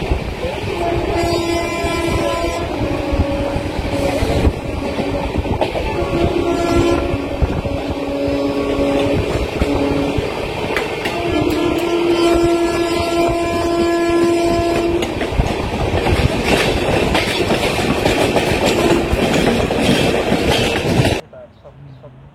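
A Sealdah–Lalgola passenger train rolls steadily along the rails, a loud continuous rumble with rhythmic clickety-clack and screeching tonal wheel noise, then cuts off abruptly near the end.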